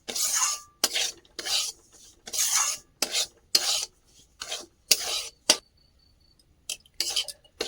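Semolina is stirred while it fries in a pan, giving repeated scraping rasps of a utensil against the metal in short irregular strokes with quiet gaps between them.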